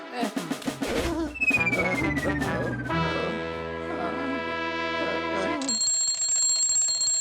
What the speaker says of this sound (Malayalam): ആ ക്ലോക്കിൽ 12 മണിയുടെ അലാറം വെച്ചിരിക്കുന്നത്